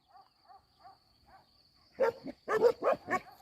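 A few faint, evenly spaced barks from far away, then a closer dog barks loudly several times in quick succession.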